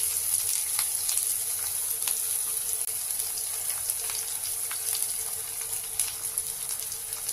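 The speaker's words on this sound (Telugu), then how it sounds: "ఆయిల్ హీట్ అయిందండి. 1 టేబుల్ స్పూన్ తాలింపు దినుసులండి, 2 టేబుల్ స్పూన్ ఆనియన్ అండి, 1 గ్రీన్ చిల్లీ" Onion, green chilli and tempering spices fry in hot oil, giving a steady, dense crackling sizzle with scattered pops throughout, close and fairly loud, with no talking.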